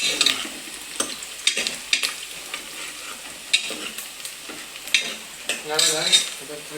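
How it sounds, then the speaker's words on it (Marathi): Onion being fried and stirred in a pan until it browns, for homestyle khichdi bhat: a steady sizzle under repeated sharp scrapes and clinks of a spoon against the pan, close by, with a brief voice near the end. "कांदा तर आता लाल होईपर्यंत काय करायचं तोपर्यंत हे करत राहायचं हलवत राहायचं"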